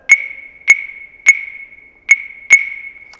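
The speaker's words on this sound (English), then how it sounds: "Actually, the instrument is called the clave." Claves struck in a three-long, two-short rhythm pattern, five sharp wooden clicks with a bright ringing pitch, loud and close with nothing else heard.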